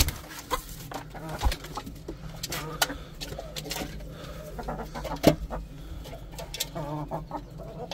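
Chickens and a rooster in a cage cluck close by, giving scattered short clucks and squawks over a low background with occasional clatter.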